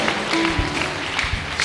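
Church congregation clapping together in a brief, steady, fairly loud patter close at hand, with a faint murmur of voices mixed in.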